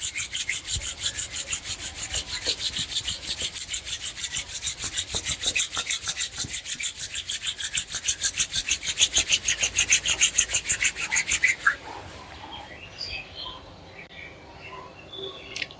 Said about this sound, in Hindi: अपने दोनों हथेलियों को आपस में रब करेंगे